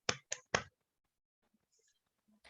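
Three quick, sharp claps from a class doing a 'tepuk salut' clapping routine, close and crisp, followed by near silence with faint small noises.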